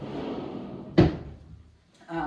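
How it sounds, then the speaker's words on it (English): An interior door is pushed shut with a single solid thud about a second in, trailing off into room quiet before a voice starts talking again. "I'll shut this door."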